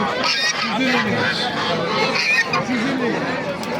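Geese honk and cackle repeatedly at a busy poultry market, mixed with other fowl and a babble of people talking nearby.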